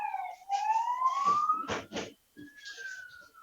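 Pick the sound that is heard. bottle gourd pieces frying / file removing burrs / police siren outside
police siren outside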